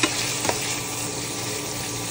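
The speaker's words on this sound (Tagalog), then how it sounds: "haluin lang natin" Ground pork with basil sauce hisses and sizzles in a frying pan in a dense continuous wash, with two quick scraping stirs at the start, close and without talk.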